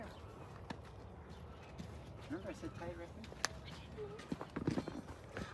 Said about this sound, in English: There's Jasper's new mount.